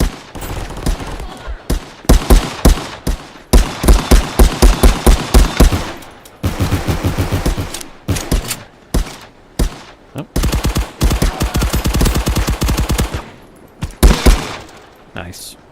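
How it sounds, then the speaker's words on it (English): Repeated bursts of automatic gunfire aimed at the players in a video game firefight, loud and close, coming in rapid volleys with short gaps between them and voices talking over parts of it. "Somebody's shooting at us."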